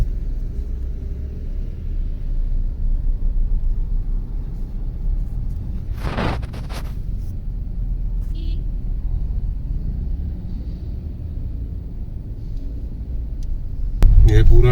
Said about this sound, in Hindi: यहाँ अंबुजा सीमेंट की फैक्ट्री है। इस वजह से यहाँ रोड पे ट्रैफिक हो रखा है।